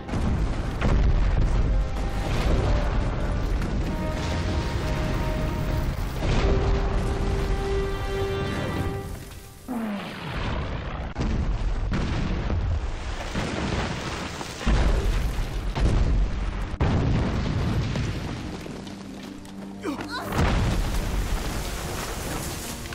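Weapons are launched in a jungle ambush scene, followed by a dense, continuous roar of explosions and rumbling blasts that swell and fade repeatedly, with a deep thump midway and heavy layered noise throughout.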